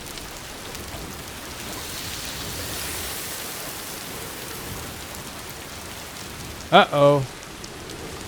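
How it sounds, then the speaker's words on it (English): Steady rain falls in the video game Death Stranding 2, a continuous hiss across the whole stretch, with a brief voice near the end. "Oh, it's raining."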